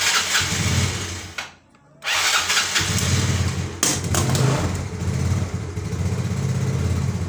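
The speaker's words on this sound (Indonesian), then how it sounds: "oke motornya sudah nyala ya ini nah, bisa dihidupkan" A carbureted Yamaha Mio motorcycle engine sputters, cuts out briefly, then starts and settles into a loud, close, buzzing idle that runs steadily to the end.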